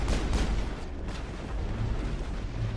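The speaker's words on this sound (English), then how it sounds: "I'm gonna get some cover fire here" Gunfire during combat in the Mass Effect video game, a busy stretch of repeated shots and booming bursts layered over one another at moderate level, with no talk.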